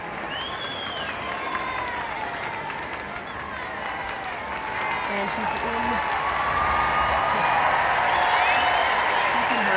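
A stadium crowd of 28,000 at the 1990 Queen's parade and Presentation of Colours cheers and applauds in a dense, continuous roar that swells louder toward the end, while a commentator talks over it.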